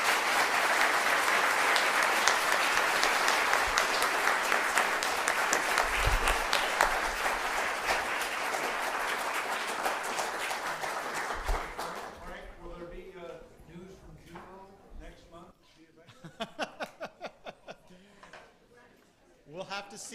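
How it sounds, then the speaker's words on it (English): Sustained audience applause for David Charbonneau at a public talk on finding inhabited exoplanets, loud and dense for about twelve seconds, then fading as a speaker's voice takes over. "please join me in another warm round of applause for David Charbonneau"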